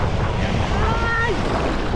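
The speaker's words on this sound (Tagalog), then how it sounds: "Malakas ang alon." Rough ocean surf roars in a constant rush at a beach in Lian, Batangas, mixed with heavy wind buffeting close to the microphone.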